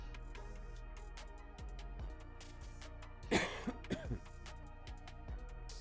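A person coughs a few times in a short rough burst, close by, amid quiet background hum.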